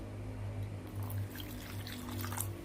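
Water trickles and pours gently into nimki dough being mixed by hand, a soft continuous liquid sound under a low steady hum, no talking.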